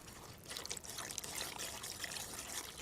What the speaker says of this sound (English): pouring the wet ingredients into the dry